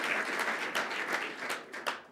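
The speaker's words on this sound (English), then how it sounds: "I think that deserves a round of applause for everybody" Audience at a company meeting applauding for about two seconds, a dense, steady patter of many hands clapping at moderate distance with a few sharper claps standing out, no voices on top.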